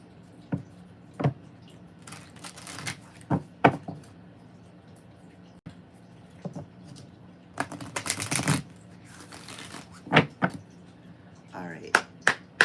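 Light Oracle cards are shuffled and handled nearby in scattered bursts of flicking, riffling and sharp taps, separated by quiet gaps, with a voice speaking at times.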